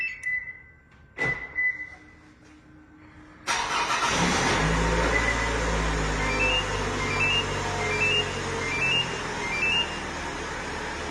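A push-button-start Mopar car fired by remote start: a few faint beeps and clicks, then the engine cranks and catches into a steady, loud idle that settles, with soft chirps of a warning tone repeating over the running engine.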